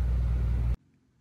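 A 1974 Triumph TR6 engine rumbles loudly and steadily up close for under a second before cutting off abruptly into near silence.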